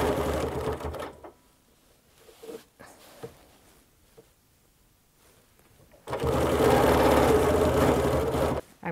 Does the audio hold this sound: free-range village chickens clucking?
no